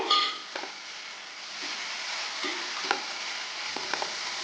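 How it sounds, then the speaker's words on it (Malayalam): Ginger garlic paste stir-frying in a pan for chicken curry, with a soft continuous sizzle and occasional light stirring clicks and scrapes, fairly quiet and close. "ഇതിലേക്ക് നമ്മൾ ജിഞ്ചർ ഗാർലിക് പേസ്റ്റ് ഇട്ട് കൊടുക്കുക"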